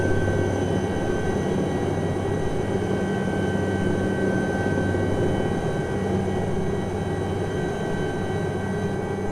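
Aérospatiale SA315B Lama helicopter in flight, a steady loud turbine whine with constant rotor drone and thin high tones, unbroken throughout with no talking.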